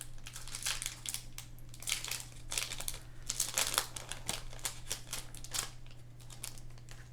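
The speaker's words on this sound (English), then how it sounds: "let's open this up and see what cards we can pull" A Rarity Collection II trading card pack wrapper is torn and crinkled open up close. The crackling crunches come in quick irregular bursts, fairly quiet, with no voices.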